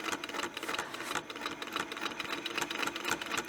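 A sewing machine stitches with a Westalee ruler template in a rapid, steady mechanical rattle close by, with only brief pauses and no talking.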